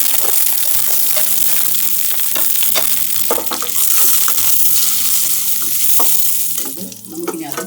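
Raisins fry in hot oil for vegetable biryani with a loud, dense sizzle, while a spoon stirs and scrapes the pan repeatedly throughout.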